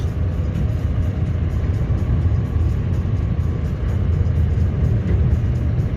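Scania R560 truck with I-shift gearbox driving while plowing snow, a loud continuous low engine rumble and road roar heard from the cab, steady throughout.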